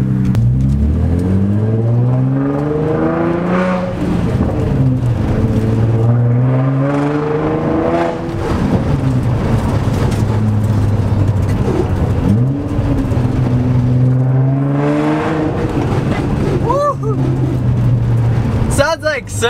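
A car engine fitted with a Y-pipe exhaust revs loudly and close, climbing and dropping through repeated pulls with a throaty drone, while people talk faintly underneath.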